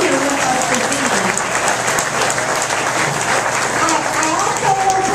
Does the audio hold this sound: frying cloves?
no